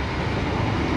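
Pasundan New Generation passenger train on an overnight run, seated in an economy car: a continuous, loud rumble of wheels and carriage noise with no speech.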